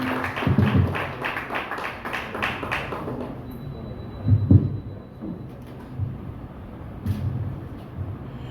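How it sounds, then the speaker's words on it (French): Audience applause at a ceremony honouring union members and officers of the PN, with clapping bursts in the first few seconds and again mid-clip, continuing as a softer hall murmur. "Un applaudissement à membre Leclerc Duroné."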